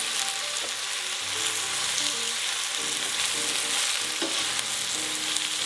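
Spinach and golden pine nuts frying in a pan, a steady hiss of sizzling oil with a spatula scraping and tapping through it, close and continuous.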